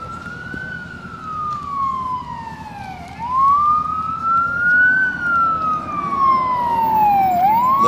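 A passing ambulance siren wails and sweeps up and down continuously, loud and close, rising and falling in long glides over a low rumble of traffic.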